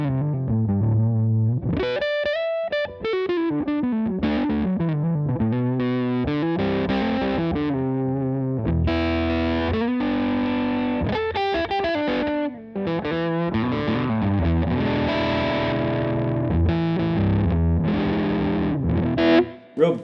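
An electric pickup on a hybrid guitar with the tone control rolled fully off plays a flowing, melodic passage of notes and chords, warm and muffled with the treble cut, and a brief voice near the end.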